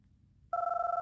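A telephone rings on an outgoing call, a single bright electronic warbling tone starting abruptly after a brief quiet moment.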